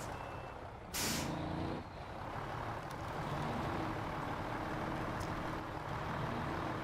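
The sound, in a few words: truck engine and air brakes in Snowrunner video game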